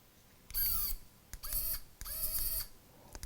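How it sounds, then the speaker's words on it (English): An RC4WD scale winch runs in short bursts, a high whirring motor whine that starts and stops three times with brief gaps and clicks between, close and fairly loud. "here is the winch."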